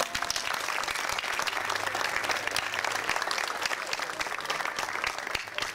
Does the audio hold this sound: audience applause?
yes